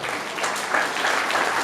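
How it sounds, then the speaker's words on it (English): Audience applause at a school's Rabindra Jayanti and annual award ceremony, a steady wash of many hands clapping at moderate volume for a short stretch with no talk. "Please give them a loud round of applause."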